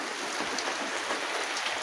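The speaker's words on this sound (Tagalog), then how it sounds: "Lahat-lahat talaga may ulan oh." Steady rain falls on a surface, a dense continuous hiss of drops at moderate level, with no voices.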